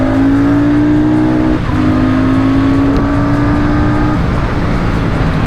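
Royal Enfield Super Meteor 650 motorcycle at full throttle, a loud close engine drone rising steadily in pitch, with a short dip for a gear change before climbing again.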